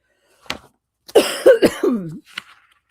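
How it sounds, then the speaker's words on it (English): A person coughs several times in a short, harsh cluster, close to the microphone, with brief quiet moments before and after. "I'm just trying to mute every time I cough."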